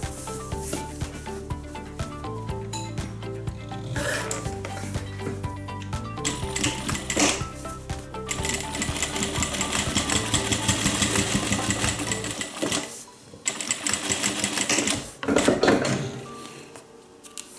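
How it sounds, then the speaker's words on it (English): A sewing machine runs steadily while stitching a straight line on a zip-around long wallet, a continuous close, mechanical whir that briefly pauses near the end before starting again. "now I'm just going to sew straight down that line."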